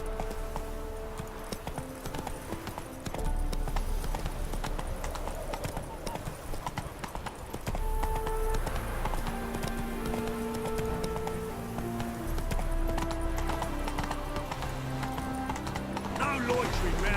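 Rhythmic clip-clop of horse hooves trotting in The Witcher 3, steady and close, with music and a voice speaking over the hoofbeats.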